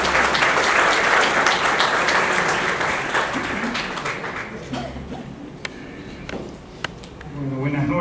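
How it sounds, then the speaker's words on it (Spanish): Applause welcoming a speaker at a finance lecture event, loud, dense clapping from an audience that gradually tapers into scattered claps, with a voice beginning to speak near the end. "Recibamos con fuerte aplauso a Raúl."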